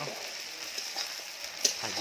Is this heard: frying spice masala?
yes